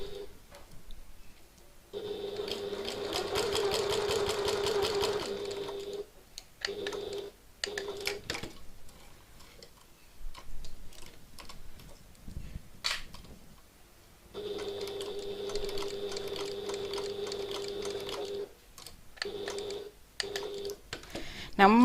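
A sewing machine fitted with a walking foot stitches a piped pocket tote bag, running in two steady whirring bursts separated by stops, shuffling and handling of the fabric.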